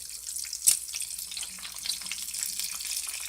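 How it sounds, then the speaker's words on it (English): Bacon sizzles in a hot pan while being flipped for a keto turkey cheeseburger, a soft, steady crackle and hiss with one sharper spatter as a slice turns over, close and fairly quiet. "Flip, you bacony piece of bacon."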